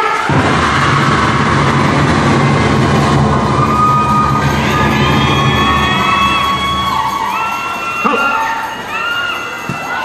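A crowd of supporters at a futsal match cheers and shouts continuously, with children's voices and whoops rising over a dense, loud wall of noise that swells and dips slightly toward the end.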